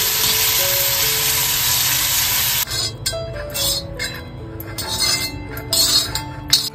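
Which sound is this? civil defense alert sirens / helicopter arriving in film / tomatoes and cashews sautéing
tomatoes and cashews sautéing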